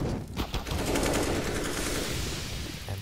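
Rapid bursts of P2000 pistol gunfire from Counter-Strike, dense and crackling over a busy game background, steady and fairly loud throughout.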